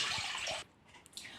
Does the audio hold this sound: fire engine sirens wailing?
no